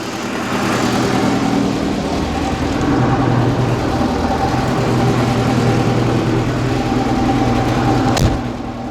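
A YuMZ-6 tractor pulling a GENERAL KNS-2.6 cultivator, its diesel engine running steadily and loudly throughout with a constant low rumble and no talk, ending in one brief sharp knock near the end.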